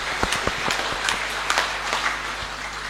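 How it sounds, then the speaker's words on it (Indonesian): An audience at a joint prayer gathering claps in scattered applause, individual claps standing out over a steady murmur, moderately loud. "Saya ajak kita aplaus untuk menyemangati perjuangan ini."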